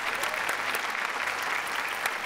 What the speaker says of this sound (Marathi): जोरदार टाळ्या दीपालीसाठी